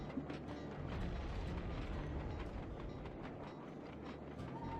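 A video game train rumbles and clatters steadily, a dense continuous mechanical roar with rhythmic clicking throughout.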